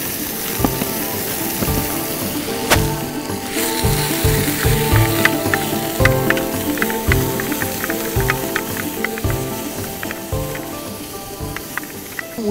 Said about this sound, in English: We've added the minced beef, we've broken it up, and that's just starting to cook through slowly.